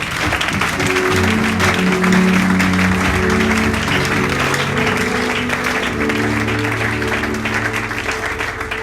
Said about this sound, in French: Est-ce que nous pouvons acclamer le roi?